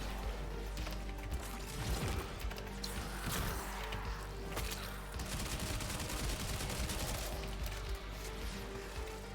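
A Stug gun fires at an acolyte enemy in the sci-fi shooter Warframe: dense bursts of rapid, punchy shots and crunchy impacts roll on continuously and loudly, with mechanical clatter between volleys.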